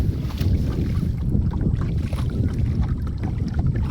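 A boat out on a wide river in strong, gusty wind, with steady low rumbling wind buffeting and water noise filling the whole stretch, loud and continuous with no talking.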